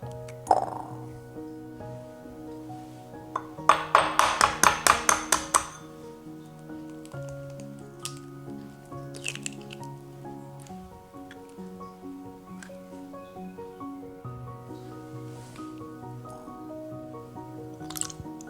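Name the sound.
separating egg whites from yolks into clean small bowls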